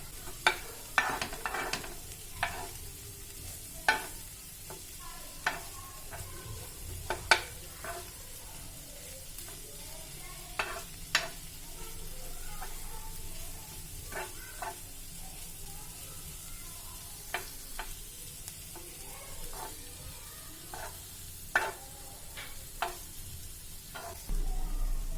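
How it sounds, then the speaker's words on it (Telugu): Spice masala fries on a low flame, giving a quiet, steady sizzle under frequent sharp scraping and tapping clicks from stirring, heard close with no talking. "ఇప్పుడు లో ఫ్లేమ్లో మసాలాలన్నీ బాగా ఫ్రై అయ్యే వరకు ఫ్రై చేసుకోవాలి"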